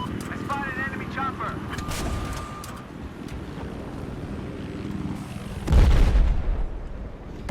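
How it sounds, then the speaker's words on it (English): Gunfire crackles in a video game battle on the Sunken Dragon map amid helicopter and combat noise, with a heavy blast near the end, all under steady spoken commentary. "Let's shoot him."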